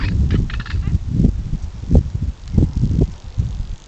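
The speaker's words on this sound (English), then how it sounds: "One of our local neighbors flying past, the black Korhan." A black korhaan, a bustard about the size of a small chicken, gives harsh, rhythmic croaking calls in a run of repeated bursts as it flies past outdoors.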